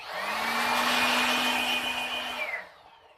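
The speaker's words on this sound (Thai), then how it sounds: "ทีนี้ก็เป่าหน่อย เป่าหน่อย เป่าน้ำมันอะไรออกสักหน่อยนะ" Blast of compressed air cleaning oil off an internal part of a PE85 wireless microphone during repair, a steady loud hiss lasting about two and a half seconds before cutting off, with no talking.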